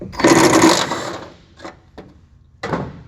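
A power driver fitted with a Torx bit backs out the door striker screws on a 1970 Camaro, whirring loudly and close in one long burst, then in a few short, sharp pulses.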